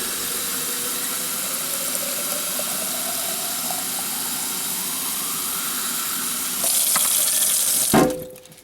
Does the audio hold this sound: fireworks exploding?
no